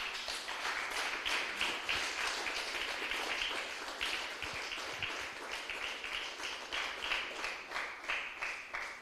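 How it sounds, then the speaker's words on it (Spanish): A congregation at a church sermon gives rhythmic applause, faint and somewhat distant, with many hands clapping in a regular pulsing beat throughout. "Denle un aplauso fuerte al Señor mío."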